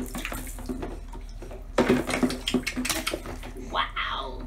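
A child splashing water in a bath, with irregular sloshing splashes and drips that grow louder midway, close by, mixed with a child's vocal sounds and brief adult voices.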